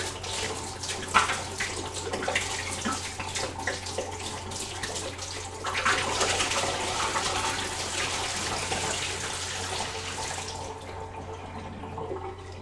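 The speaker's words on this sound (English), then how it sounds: "Because I gotta dump out the water." Water dumped out of a beer fermenter during home brewing, a steady splashing pour into a drain or sink that swells midway and cuts off abruptly near the end.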